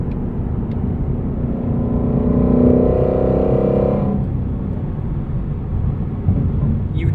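A 2020 Ford Mustang Shelby GT350R engine revs hard while driving, rising to a loud peak near 7,200 RPM before a shift, then settles into a steady lower drone of road and cabin noise.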